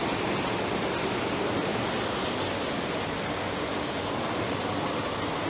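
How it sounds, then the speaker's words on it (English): A rooftop pool's waterfall feature on an eighth-floor hotel terrace in Bangkok pours in a steady, dense broadband rush, continuous and fairly loud with no breaks and no voices. "This waterfall feature is really nice. It kind of masks a lot of the sounds from the street."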